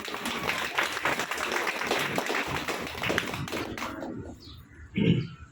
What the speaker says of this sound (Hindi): ऐसे ग्रेट लीडर, उनके लिए एक बार जोरदार ताली बनता है।